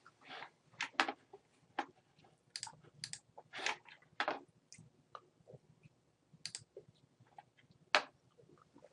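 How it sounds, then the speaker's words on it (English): Sharp clicks from a computer mouse or keyboard while building a database table in SQL, a series of irregular, close, quiet taps with short pauses between them and no talking. "I will click run, and it will tell me that table has been created"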